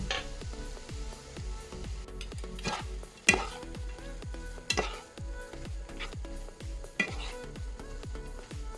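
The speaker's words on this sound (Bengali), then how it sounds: "ডালটাকে ভালো করে একটু কষিয়ে নিচ্ছি আগে" Masoor dal is sautéed in a hot pan with a steady sizzle while a spatula scrapes and stirs in a regular rhythm, with a few sharper clinks against the pan, close and unaccompanied by talk.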